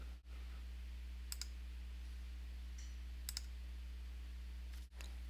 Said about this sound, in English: Clicking this square enables bulk operations. I'll select all of my stories and move them into the iteration I previously created.